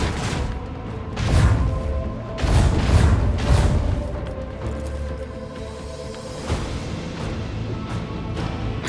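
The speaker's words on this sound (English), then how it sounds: "Macro cannons, volley!" Macro cannons fire a volley in a video game space battle: a run of heavy, rumbling booms rolls in close succession, then fades into a low mechanical rumble with a few later thuds.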